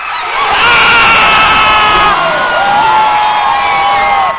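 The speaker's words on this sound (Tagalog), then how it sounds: "Hiyawan tuloy kaming mga nasa arena." A basketball arena crowd at a Gilas Pilipinas versus Chinese Taipei game roars, cheering and shouting loudly and continuously, with shrill whoops rising above the din.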